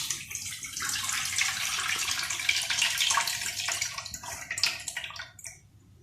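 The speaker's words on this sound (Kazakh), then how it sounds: "Енді мына суды төгіп тастаймыз." Water poured off tomatoes packed in a glass jar for pickling, a steady close splashing stream that runs several seconds before tapering off, with no talk.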